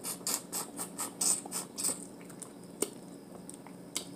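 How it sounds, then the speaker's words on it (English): Wet chewing and sucking while eating boiled crawfish at a seafood boil, a steady run of close, squishy bites and slurps with small clicks, no talk over it. "I like the crawfish because I like to suck the juice out of it."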